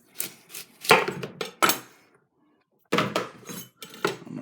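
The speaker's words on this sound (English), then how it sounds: "Cut off the top." A large watermelon has its top sliced off with a big kitchen knife, giving several sharp cutting thuds and crunches as the blade presses through the rind, then a pause and more knocks of the knife on the board.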